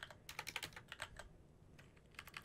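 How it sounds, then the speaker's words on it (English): Quick, faint clicks from a computer keyboard come in short bursts with a pause in between, close and quiet, with no talking. "you can hit Control A and type in"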